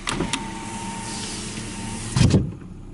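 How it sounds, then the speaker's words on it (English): A 2012 Scion iQ one-touch power window runs in a single smooth motorized whir, ending with a louder thud as the glass seats, heard up close inside the small car. "One touch, windows down, which I'm a huge fan of. I don't like waiting for my windows to go up and holding the button. And of course, one up."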